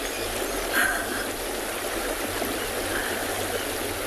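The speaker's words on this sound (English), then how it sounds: "have a listen to how strong the water is flowing, especially here in front of me as it's going off the cement crossing" Strong floodwater rushes off a cement crossing on a safari reserve, a steady, loud broadband roar of flowing water close by that continues without a break throughout.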